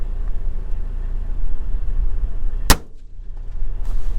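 A single sharp rifle report from a long-range shot during a hunt, over steady outdoor rumble, followed by a brief quieter moment as the background settles.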